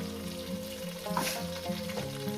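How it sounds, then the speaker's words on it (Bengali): Ground spice paste frying in a pan for a vegetarian dish, a soft steady sizzle with occasional light scraping of a spatula, fairly quiet over a constant background hum. "মশলাটাকে দিয়ে আমি একটু কষিয়ে নেব"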